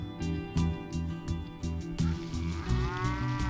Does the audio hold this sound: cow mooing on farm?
yes